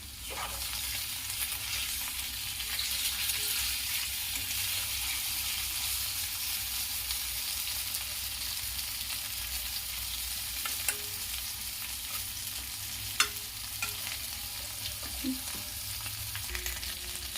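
Boiled potatoes fry over high flame with a steady sizzle filling the pan throughout, with occasional scrapes and clinks of a spoon stirring; no voices.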